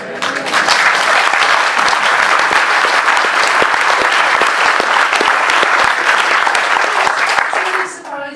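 An audience at a political talk on Brexit and a written constitution bursts into loud, dense applause that fills the room throughout, tapering off right at the end, with no one speaking over it.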